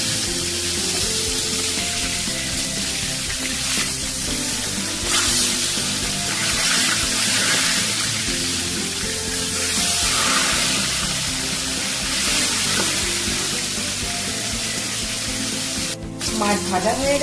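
Fish fries in hot oil in a kadai after being turned over, with a dense, continuous close-up sizzle and crackle, a brief clatter near the end, and faint speech under the noise.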